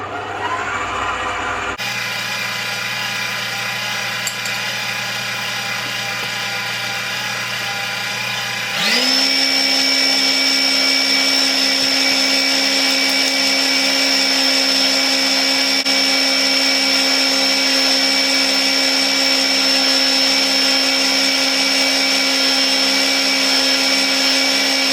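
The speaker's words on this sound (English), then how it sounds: "And then we just whisk that on about medium until it's creamy." An electric hand mixer whisking eggs in a bowl on medium speed for cupcake batter, a steady whirring drone that grows louder and higher after a short quieter start, running alone without speech.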